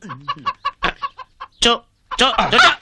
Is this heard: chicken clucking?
yes